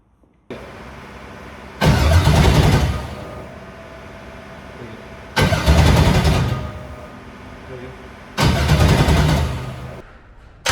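A carbon-bodied Camaro engine cranks and fires for the first time, with three loud, close bursts of running engine noise, each lasting a couple of seconds, separated by quieter pauses.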